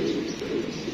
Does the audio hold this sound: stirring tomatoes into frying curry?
no